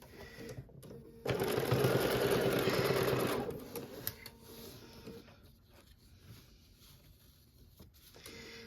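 A home sewing machine runs in one fast, steady burst of stitching on a quilted bench pillow border, loud and close for about two seconds, then slows and stops, leaving faint handling noises.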